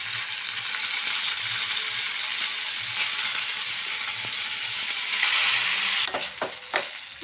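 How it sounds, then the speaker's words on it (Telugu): Pasta frying and being stirred in a pan with salt and turmeric, a steady close sizzle throughout with sharper scraping stir strokes near the end, no voices. "ఇప్పుడైతే అన్నీ మంచిగా ఫ్రై అయినట్టు పాస్తా అయితే వేసుకుందాం."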